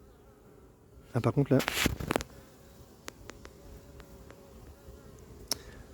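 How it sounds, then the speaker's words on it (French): Honeybees buzz close by around a beehive at an apiary. A short burst of loud, near buzzing comes first, then scattered individual bees drone past against a quiet outdoor background, with a brief spoken remark. "Les abeilles, elles chassent les intrus."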